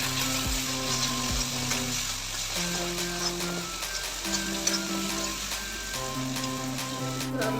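Chopped onion and tomato frying steadily in a pan, a continuous close sizzle with soft crackles and occasional stirring scrapes, no voices over it.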